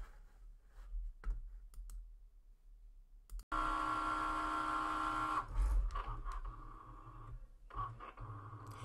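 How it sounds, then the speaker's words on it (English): A Cricut Maker cutting machine scans registration marks, then cuts medium cardstock, giving a steady mechanical whir with motor hum and clicking carriage moves that stop and restart. The sound is close and fairly loud, and no one speaks. "you can see that the maker is reading the registration marks."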